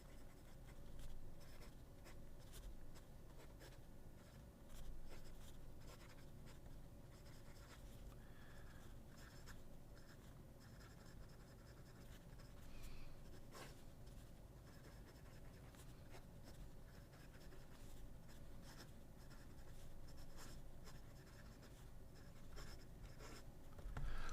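An Admoc M800 fountain pen with a Schmidt medium nib scratches softly and continuously across paper in close, faint strokes, with small ticks where lines begin and end.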